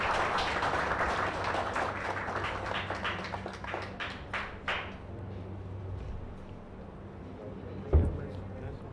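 Audience at a foundation function in a hall breaks into a burst of clapping that thins and fades out over several seconds, followed by a single sharp thud.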